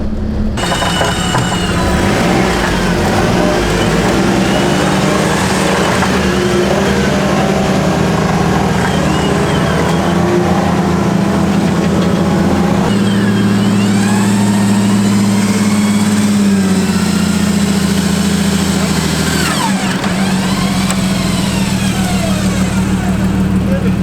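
A Jeep stuck in a channel on the Ellis off-road track, with a winch in use, drones loudly and steadily, its engine pitch shifting and rising midway while people talk over it.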